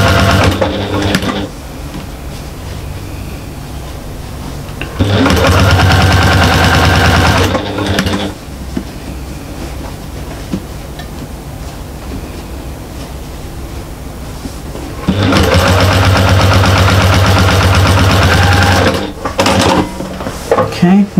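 A sewing machine stitching a fabric bag runs in two loud, steady bursts of rapid mechanical whirring, separated by quieter handling noise.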